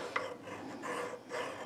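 Diamond file rasping across metal Parker No. 6 vise jaws during hand fitting, three steady strokes back and forth, close and fairly quiet with no talk.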